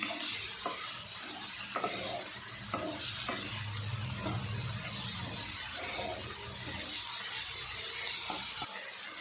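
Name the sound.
stirring mint and coriander leaves into tomato chutney in pan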